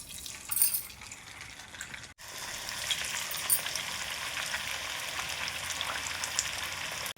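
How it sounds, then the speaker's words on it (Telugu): Pappu chekkalu, flat lentil-and-rice dough discs, deep-frying in hot oil: a short crackle, then a brief pause and a loud, dense, continuous bubbling sizzle heard up close without any talking. "డీప్ ఫ్రైకి ఆయిల్ పెట్టుకుని ఆయిల్ వేడైన తర్వాత ఒక్కొక్కటిగా వేసుకోవాలండి"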